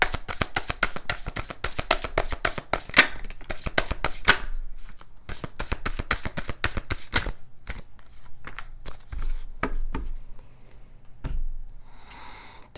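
Tarot cards being shuffled by hand, a rapid rustling riffle for several seconds, then sparser slaps and taps as the deck is handled, close and clear with no talking.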